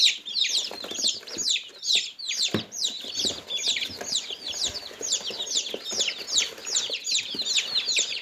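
Many small dwarf-chicken chicks chirp rapidly and continuously at high pitch, close by, with occasional soft clucks underneath.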